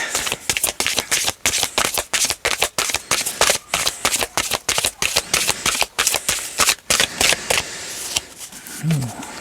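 Tarot cards are riffled and shuffled in rapid, rhythmic bursts of crisp flapping close to the listener, running nearly continuously before slowing at the end.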